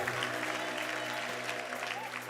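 A church congregation claps together in steady, continuous applause that fills the room, with faint voices blended underneath.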